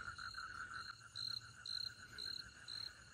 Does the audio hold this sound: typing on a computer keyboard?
no